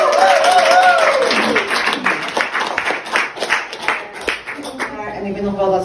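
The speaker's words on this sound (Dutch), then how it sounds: "Mag ik een applaus?" Audience applause at a tenth-anniversary event for women entrepreneurs, a loud, ragged spatter of many hands that thins and swells, with a voice briefly over its opening.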